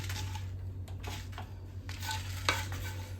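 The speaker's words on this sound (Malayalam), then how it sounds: "ജീരകം പൊട്ടി തുടങ്ങിയിട്ടുണ്ട്" Faint crackling and popping of cumin seeds spluttering as they roast in a hot pan, a few sharp pops over a steady low hum, no voices.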